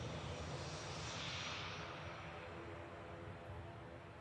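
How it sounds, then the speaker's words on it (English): A Jet2 airliner bound for Heraklion taxis out at Manchester Airport, a steady, fairly distant jet engine whine and roar with a brief high hiss swelling and fading. "Jet 2 out to Heraklion at the Isle of Man bound Logan Air on the taxi out behind as well"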